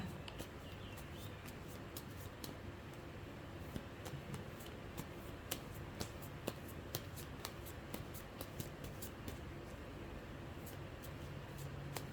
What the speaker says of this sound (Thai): ขอเป็นตัวแทนตัดไพ่ตัดไพ่ให้คนเกิดวันอังคารค่ะ